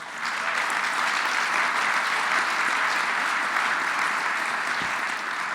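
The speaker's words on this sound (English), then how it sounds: "Let's give Chairman Hogan a big round of applause." A large audience at the 2019 National Governors Association summit applauds Chairman Hogan, a loud, even roar of clapping that holds steady throughout.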